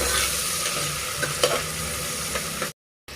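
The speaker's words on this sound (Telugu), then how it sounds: "టొమాటోస్ ఒక టూ మినిట్స్ ఫ్రై చేసుకుందాము" Tomatoes frying in a pan for chicken haleem, with a steady broad sizzle and a few scraping stirs, close and continuous before a brief cut to silence near the end.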